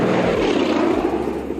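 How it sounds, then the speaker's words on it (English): Vintage propeller planes fly low overhead above a desert lake bed, a loud, steady droning engine roar filling the whole moment without any voices. "Overhead, vintage planes buzz the lake bed."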